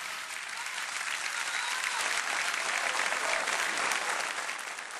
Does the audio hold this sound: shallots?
no